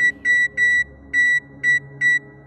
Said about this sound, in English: The oven makes a beeping noise when you push the buttons.